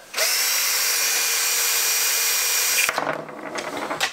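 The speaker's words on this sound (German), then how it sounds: "Bohren wir doch mal das erste Loch in den Tisch hier rein" A power drill whirs steadily at high speed for a few seconds, boring a hole into a plastic table, then winds down into scraping and rattling as it stops.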